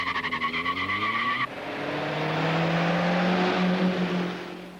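A BMW and a Volvo race each other in an elimination heat. A revving engine is heard first, then a steady roaring run with tire noise that swells and fades.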